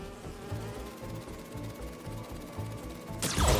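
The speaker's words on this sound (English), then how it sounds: "Do you see those little holographic bee wolves?" Holographic bee wolves in Marvel's Spider-Man 2 give off a steady, pulsing insect-like buzz with a regular rhythm, moderately quiet, before a sudden louder burst at the end.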